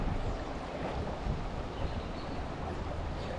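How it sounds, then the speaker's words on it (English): Strong wind gusts roar steadily across the microphone beside the Beaverkill River in New York's Catskills, a dense, close rushing noise with no talking. "The wind's pretty bad right now."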